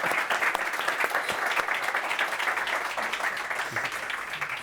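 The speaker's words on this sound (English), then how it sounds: "A round of applause," An audience at a 2023 Germany panel event applauds warmly, a dense, steady wash of clapping that holds for several seconds and fades slightly toward the end.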